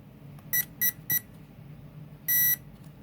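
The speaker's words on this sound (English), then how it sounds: "I heard 4 beeps." Four short high-pitched electronic beeps from an ECX 1:10 Torment brushed RC car's speed controller connected to a 3S battery: three quick ones in a row, a pause, then a longer final confirmation tone over a faint low hum.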